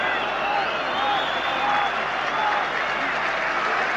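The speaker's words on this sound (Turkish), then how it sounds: "Alkışlar arasında" Stadium crowd at a Beşiktaş versus Athletic Bilbao UEFA Cup football match applauds steadily, a broad continuous wash of clapping and crowd noise from a distance.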